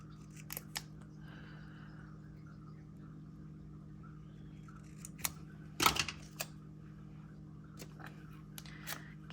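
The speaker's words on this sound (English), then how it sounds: "I am going to cut the white off the bottom of these." Scissors snipping the white backing off paper planner stickers: a few sparse, sharp clicks and one louder cluster of cuts midway, close-up over a steady low hum, with no talk.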